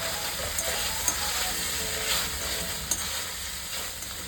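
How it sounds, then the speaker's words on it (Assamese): Vegetables and bread tossed with soy, Schezwan and chilli sauces in a wok make a steady close sizzle, with faint scraping stirs and a couple of sharp clinks over the constant frying hiss. "soya sauce, schezwan sauce, chilli sauce গোটেইবোৰ ধুনীয়াকৈ দি এনেকৈ লৰাই দিছোঁ"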